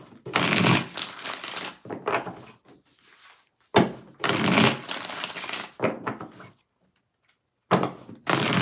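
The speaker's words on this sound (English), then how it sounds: "Three more shuffles." Tarot cards shuffled in several bursts of dense crisp riffling, each lasting about a second or two, with short quiet gaps between them.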